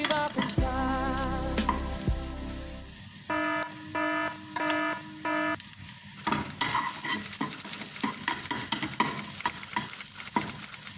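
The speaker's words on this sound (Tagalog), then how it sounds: "So brown lang natin guys yung garlic." Garlic fries for garlic rice in a pan with an ongoing sizzle and scraping stirs. A loud beeping alarm sounds in repeated bursts partway through.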